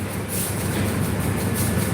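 A train rolls past on a railway line, a loud, steady broadband rumble with rattling wagon noise held throughout.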